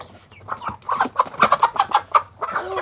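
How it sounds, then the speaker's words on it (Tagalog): Hens clucking in a backyard flock, a run of short, repeated clucks at close range with a few louder calls mixed in, no talking over them. "Yung mga gandang hens natin."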